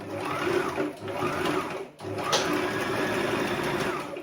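A sewing machine stitching tulle mesh fabric for a turban, running in steady fast bursts with a brief pause near the middle, close and loud without talk.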